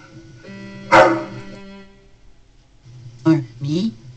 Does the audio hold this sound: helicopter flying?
no